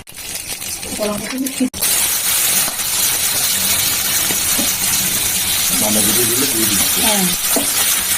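Oil fries loudly in a kadai while cabbage ghonto is being cooked, a dense, steady sizzle close up that continues throughout, with a voice speaking over it at times.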